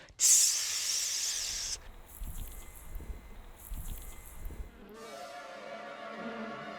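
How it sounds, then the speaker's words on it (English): A Goliath tarantula hissing as it rubs thick hairs beside its jaws together, a loud, bright, frying-bacon crackle in one long burst, then quieter rasping with faint low rumbles. "The spider rubs very thick set hairs on either side of its jaws, and it rubs these together and it makes a sound like frying bacon"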